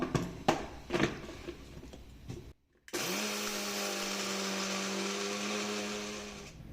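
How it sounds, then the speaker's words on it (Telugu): A mixer grinder grinding rice starts up after a brief pause and runs steadily with a loud, continuous whirring grind, preceded by a few light knocks and clatters. "ఒక్కసారి మిక్సీ పట్టుకుందాం"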